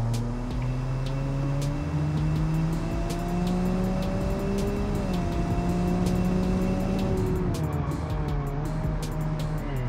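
Inline-three car engine in the BeamNG driving game, a loud continuous drone with harmonics sliding up and down through gear changes and throttle shifts, close and steady for the whole stretch, with no voices.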